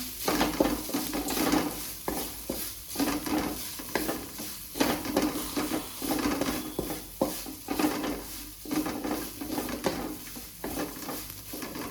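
A spoon stirs banana oggarane in a pan over the heat, making rhythmic scraping strokes against the metal over a steady background sizzle.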